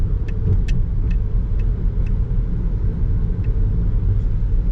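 Traffic moves through Macau during a category 8 typhoon, a loud, continuous road rumble of passing cars with a few faint high clicks and squeaks scattered through it.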